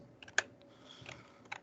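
Keystrokes on a computer keyboard while a Linux command for the fdisk partitioning utility is entered: a handful of sparse, light clicks, one sharper tap standing out, close and quiet with no talk.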